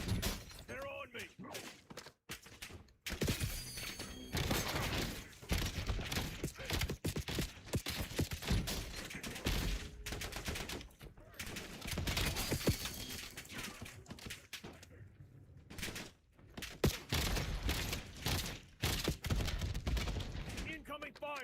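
Gunfire in the video game Call of Duty Black Ops 7, sharp cracking shots and breaking impacts packed densely throughout, loud and close, with talking over parts of it.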